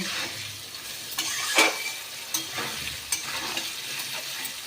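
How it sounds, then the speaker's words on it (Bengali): Potatoes frying in oil with salt and turmeric, stirred in a pan: a steady sizzle with several sharp scraping strokes of the spoon, close and fairly loud, no talk. "আলু যে ভাজাটা হচ্ছে সেটাকে আবারও আমি খুব ভালো করে নাড়ব"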